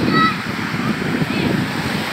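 Sea waves at Bagac beach in Bataan wash in as a continuous, rushing surf roar mixed with gusty wind noise on the microphone, steady and fairly close.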